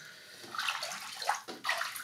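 A handmade-paper mould is dipped at an angle into a vat of water and paper pulp and lifted out, making soft, close sloshing and splashing water sounds in a few quick surges.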